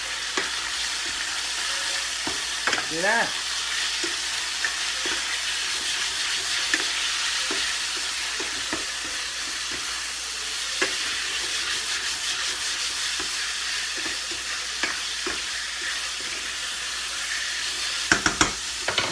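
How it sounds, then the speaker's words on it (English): Chicken stir fry sizzles in a pan with a bit of olive oil, giving a constant close hiss and crackle. Scraping stirs and light clinks break in now and then, and a voice speaks briefly. "Stir fry."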